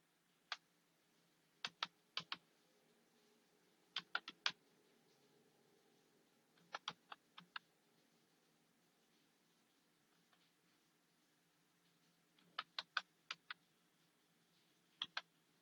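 Quiet bursts of computer keyboard typing as a bill number is entered, a few quick keystrokes in each cluster with near-silent pauses between, close and soft.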